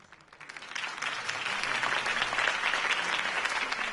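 Crowd applause follows Harvey Dent's campaign speech in the Batman Telltale game, swelling from quiet to a steady, full roar of clapping that continues to the end.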